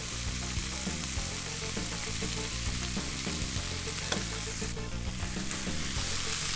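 Chickpeas fry in a pan with pepper paste and are stirred through it, producing a dense, loud, continuous sizzle with scraping stirs running beneath.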